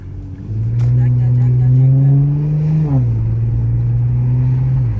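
An Infiniti Q50 modified with downpipes and intakes revs hard and climbs in pitch, briefly dips as it shifts, then pulls again, loud and close throughout.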